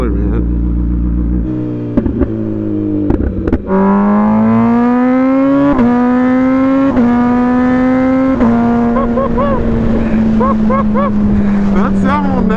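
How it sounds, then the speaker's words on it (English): An MV Agusta motorcycle engine idles roughly, then revs up into a loud, sustained howl that climbs in steps and holds high, close by with no talk. "Such a unique, bespoke noise that comes from this motor."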